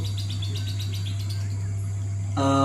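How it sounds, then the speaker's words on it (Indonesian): A lovebird calls in a run of quick, high chirps over a steady low hum, ending in a louder, harsher burst of calls near the close. "sebelum konslet itu burungnya seperti ini loh"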